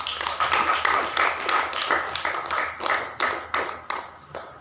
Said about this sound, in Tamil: கைத்தட்டுங்களா பார்ப்போம்